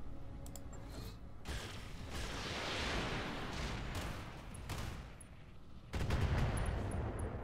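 Mech weapons fire in the BattleTech-based game Roguetech as a series of loud bursts, blasts and crackling impacts, several distinct volleys in sequence with mechanical clatter between them and no talk.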